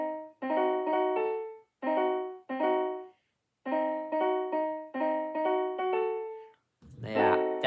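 Diminished seventh chords played on a keyboard instrument, sounded in short repeated groups of clean sustained tones with gaps between, followed by a brief voice at the end.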